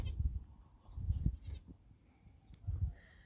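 Goats bleating out in a small pasture, where a nanny goat has her two newborn kids: a few short, fairly faint calls that rise and fall at irregular intervals, with quiet outdoor background between them.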